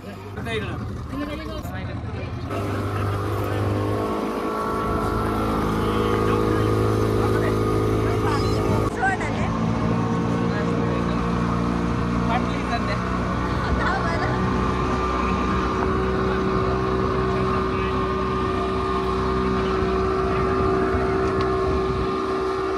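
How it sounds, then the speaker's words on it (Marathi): A boat ride with a steady motor drone and wind rushing past, the engine hum holding a constant pitch close by, with voices talking over it throughout. "हा आम्ही आता बोटिंग मध्ये बसणार"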